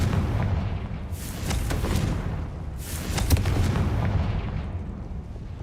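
Blasting-curse explosions in a wizard video game: a series of heavy booming blasts with crackling bursts, two or three loud swells rolling over a continuous rumbling bed, with no voices.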